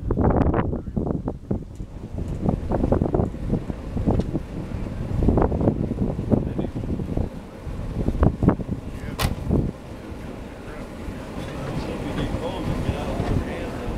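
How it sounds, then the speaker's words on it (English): Gusty outdoor wind buffets the microphone in uneven low bursts that rise and fall, easing into a steadier rush toward the end. "Windy."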